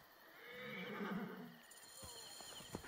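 A horse whinnies in the video game Assassin's Creed Origins, a loud rising neigh that fades out, followed by a few hoof clops and rustling over in-game background noise.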